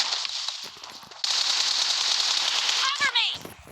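Automatic gunfire in a shooter video game sounds as a loud, sustained, rapid-fire stream of shots lasting a few seconds, with a voice speaking briefly over the end.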